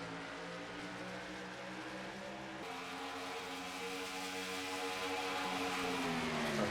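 Stock race cars on the oval at Nashville in an Xfinity Series race, a dense pack of engines droning with layered rising harmonics, steady and loud throughout with no talk.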